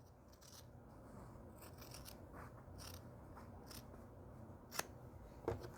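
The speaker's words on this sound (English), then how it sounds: "now we want to go in and cut a 1/4 inch away from where we sewed on" Scissors trim fabric a quarter inch from a sewn line on a quilted table runner. Quiet snips and crisp blade closings repeat slowly, with two sharper clicks near the end, and nobody speaks.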